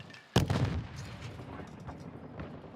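A stun grenade goes off in Call of Duty Modern Warfare II as one sudden, loud, close bang, followed by a rumbling tail and faint scattered game sounds.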